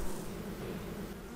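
Honeybees swarm around an opened hive as frames are lifted and bees are shaken and brushed off the comb, a dense steady buzzing hum close by with no speech.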